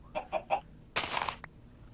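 Chicken clucking in the Minecraft video game: three short, evenly spaced clucks followed by a longer, louder squawk, close and clear with no talk.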